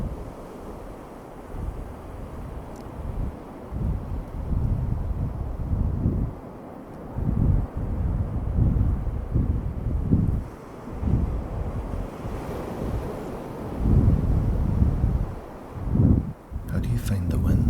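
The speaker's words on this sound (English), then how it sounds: "How do you find the wind? Is that a bit too much?" Simulated holodeck wind gusts steadily in a low rumbling roar, swelling and easing in waves throughout, with a person talking intermittently over it.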